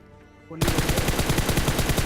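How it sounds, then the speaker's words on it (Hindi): Automatic gunfire in PUBG Mobile erupts after a brief quiet moment, a rapid, loud, continuous burst of shots carrying on to the end. "कंफर्म करने के लिए मैं आगे जाता हूँ प्री फायर देते हुए"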